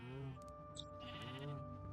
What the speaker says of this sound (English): So we've got all the sheep up there.